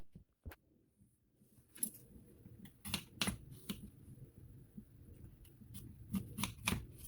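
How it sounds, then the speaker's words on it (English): A knife cuts a turnip root into chunks on a board, with quiet, irregular taps and thuds close by in an otherwise hushed kitchen. "So I'm going to go ahead and cut this turnip root up."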